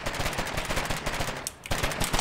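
Rapid machine-gun bursts trade between two squads in the game Foxhole, dense and loud, with sharp repeated cracks filling the whole stretch and a brief lull near the end.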